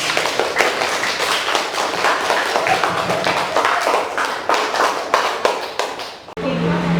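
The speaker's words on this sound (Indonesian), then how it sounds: "beri tepuk tangan untuk kelompok 1." Sustained classroom applause for a student group after a poster presentation, many hands clapping quickly and densely at close range, then cutting off suddenly into a quiet room with a faint hum.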